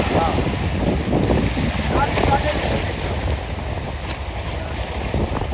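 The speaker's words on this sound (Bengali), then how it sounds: "দেখেন কিভাবে চলতেছে নৌকাটা।" A boat moves along a river with a constant low engine rumble and water wash, heavy wind buffeting the microphone throughout, with no clear talk over it.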